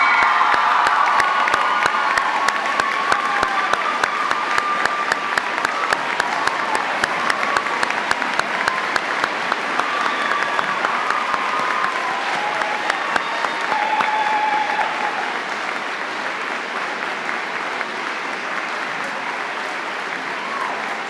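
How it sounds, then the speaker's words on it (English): Large audience at a Maine Teacher of the Year celebration applauding and cheering loudly for honoree Julia Edwards, a dense sustained wash of clapping with whoops that stays strong for about fifteen seconds before slowly thinning. "Can we give Mrs. Edwards one more big round of applause?"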